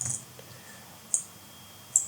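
Computer mouse clicks while filling in an online account sign-up form, two or three sharp, faint isolated clicks spaced about a second apart over quiet room tone.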